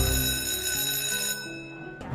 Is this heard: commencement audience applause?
no